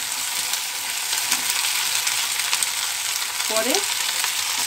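Chili and salt fry in hot oil, making a constant close sizzle with a brief stirring scrape; one short spoken word is heard.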